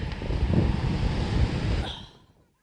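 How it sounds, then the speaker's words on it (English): Strong wind buffeting the microphone in a loud, low roar with gusty swells, then dropping away abruptly. "It is so windy."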